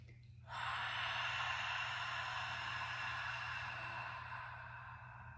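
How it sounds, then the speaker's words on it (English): A single long, breathy exhale begins abruptly and holds steadily for about five seconds during a bear offset breathing exercise for the upper body, close and soft, with no talking. "this is where I'm going to take my breaths"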